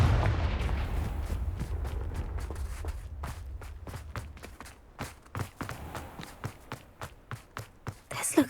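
Repeated Confringo fire spell blasts in the Hogwarts Legacy video game, a run of sharp, punchy bursts that quicken toward the end over a rumbling game backdrop.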